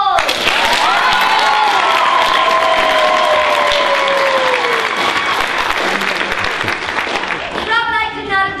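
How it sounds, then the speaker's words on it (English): Loud, sustained applause with cheering and whistles from a theater audience at a Secret Garden show, honoring Dr. Larry Knowles, with a brief burst of louder whoops near the end. "I'd like to give a huge round of applause to Dr."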